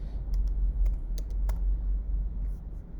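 Someone types on a computer keyboard in a quiet room, a quick irregular run of light clicks over a low steady hum.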